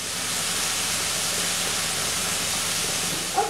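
Onion and anchovy cook in hot olive oil, a steady, even hiss of frying that holds at one level for a few seconds with no talk.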